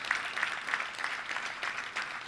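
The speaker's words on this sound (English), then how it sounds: "let's give them a round of applause" Soft, steady applause from an audience at a touchdown club gathering, honoring volunteers, sounds somewhat distant and continuous throughout.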